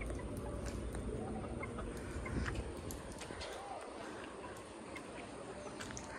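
Roosters being fed cluck and call outdoors among chickens, with faint voices in the background and low farmyard noise.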